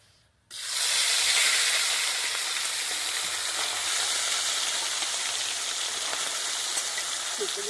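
Small fish frying in hot oil for a winter morning meal, a loud steady sizzle bursting in after a short silence and holding at full strength to the end, with no talk.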